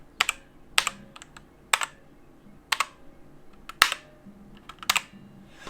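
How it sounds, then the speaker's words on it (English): Sharp, separate clacks of keys being pressed on a TECWARE Phantom mechanical keyboard with red switches, spaced irregularly, close and clear in a quiet room, each with a faint metallic ring. "a little slight bell ring in the background when you press it"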